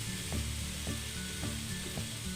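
Shrimp sauté in a hot pan with a steady sizzle, and a utensil stirs and scrapes against the pan in a regular rhythm about every half second.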